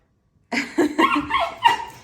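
An excited dog giving a short burst of close, loud barks and yelps indoors in a bathroom, several quick calls in a row.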